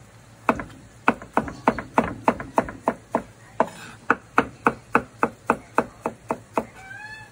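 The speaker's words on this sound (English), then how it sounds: "I have some tomatoes in here. Just cut it thin." Knife chopping tomatoes thin on a cutting board for pork adobo, a steady run of about twenty crisp, evenly spaced thwacks close up, with a brief pause midway and no speech.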